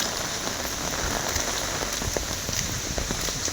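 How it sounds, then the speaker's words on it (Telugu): Steady rain pouring outdoors, a dense, continuous patter of drops striking surfaces close by, fairly loud and even throughout with no voices. "చూడండి ఏమన్నా పడుతుంది వాన."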